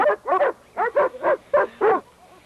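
Several dogs barking in quick succession outdoors, about seven sharp, fairly close barks in an uneven rhythm, followed by a faint whimper at the end.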